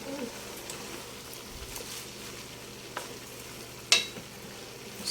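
A pan of chop suey boils and sizzles on the stove while being stirred, giving a steady soft bubbling hiss with an occasional sharp scrape or clink of the utensil.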